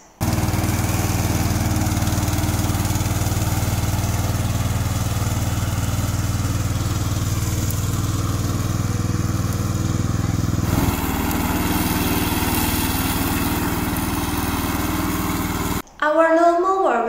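A remote-controlled lawn mower runs steadily with a loud, constant engine drone that shifts pitch partway through, then cuts off abruptly near the end.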